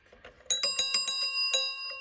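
A cracked bell from a 1946 GPO 332 telephone struck several times with a screwdriver, giving a quick run of clanky metallic rings, close and fairly loud, with one lingering final strike.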